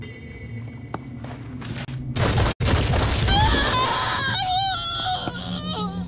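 Gunfire in the video game Phoenix Point: a dense burst of rapid shots swells into loud sustained noise, followed by pained groaning and whimpering from a struck creature, with footsteps beforehand.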